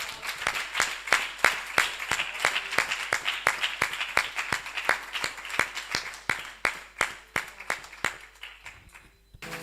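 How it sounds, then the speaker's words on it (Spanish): A church congregation claps loudly for the Lord in a steady, even rhythm, many hands striking together in sharp beats that continue for several seconds before fading near the end. "¿Por qué no le das un aplauso fuerte al Señor?"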